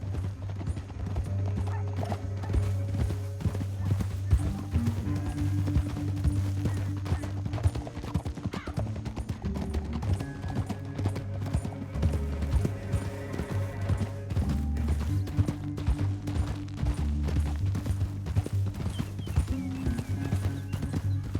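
Horse hooves clip-clop in a steady rhythm in the video game Red Dead Redemption 2, over a low droning background, continuous and moderately loud throughout, with occasional mechanical clicks and no talking.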